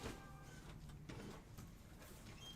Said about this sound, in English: You can hear that it's starting to print.